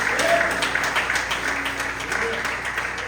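Church congregation at a family worship service bursting into sustained applause, a dense even wash of clapping from many hands, loud and close throughout.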